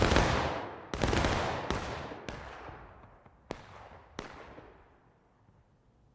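Civil War-era musket shots in War of Rights, a 150-player online battle at Pry Ford, ring out one by one at long range, each sharp report trailing into a long echoing decay.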